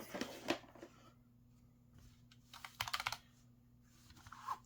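Keys pressed on a Redragon K618 low-profile mechanical keyboard, a few close, quiet clusters of quick clicky taps separated by short pauses, over a faint steady hum.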